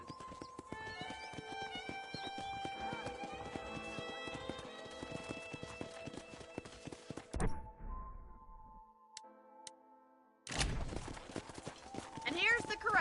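Horses at a ranch corral in the video game Skyrim, steady hoof clip-clops with a whinny under speech, followed by a quiet gap and then more noise.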